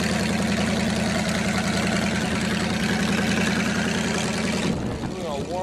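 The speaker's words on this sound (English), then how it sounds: "Have to warm up the engine before we fire up the siren." The large engine of an air raid siren idles while warming up, a steady low rumble and throb, loud and constant, then the tone drops and shifts near the end.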